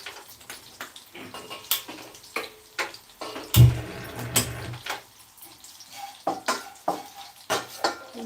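Bitter gourd pieces frying in a kadai, stirred with a ladle in repeated scraping strokes, with sizzle and bursts of metal clatter between quieter moments, close and fairly loud.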